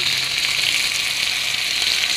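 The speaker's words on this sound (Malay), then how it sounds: "jom kita panaskan minyak untuk menggoreng ok dah nampak bawang tu nampak kekuningan kita boleh masukkan budu" Budu, a fermented fish sauce, fries with golden onions in hot oil in a pan for nasi goreng, a loud, steady close sizzle throughout with no talk.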